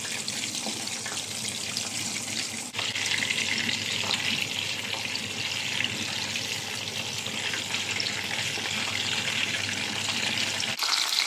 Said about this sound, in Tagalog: maluluto na ang ating fried chicken